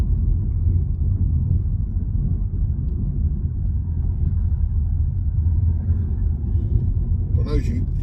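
A car drives steadily along a 40 mph bend near the Dogs Trust roundabout, keeping left, with a continuous low road rumble and engine drone at close range, and what may be a voice partly blended into the noise.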